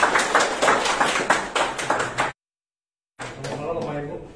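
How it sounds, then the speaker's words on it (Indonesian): An audience applauding a performance at an anniversary celebration: dense, lively clapping with voices mixed in, cut off by a brief silence before the clapping and chatter resume. "Aplaus dulu dong."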